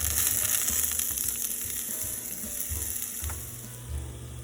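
Bulbous spring parsley roots fry in a pan with a steady, bright sizzle and occasional stirring scrapes, close and continuous with no talk.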